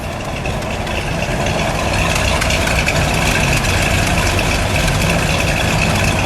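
A fuel-injected 1963 Chevrolet Corvette split-window engine runs loud and close throughout, a steady heavy rumble that swells slightly after the first couple of seconds into a rev, with no talking.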